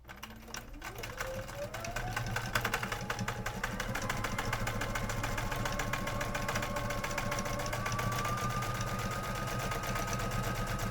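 A sewing machine stitches across a fabric test piece for machine quilting, a steady fast mechanical chatter after a brief start-up, close and continuous with no talk.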